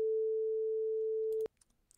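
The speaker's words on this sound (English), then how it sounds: "this is a 3 second long tone that sounds like this" A steady, pure electronic 440 Hz beep generated in Audacity holds at one pitch for about a second and a half, loud and unbroken, then cuts off abruptly into near silence.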